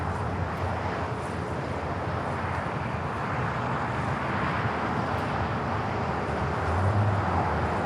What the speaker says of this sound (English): we got that Japan Airlines Dreamliner now heading down to 25 right here on the south side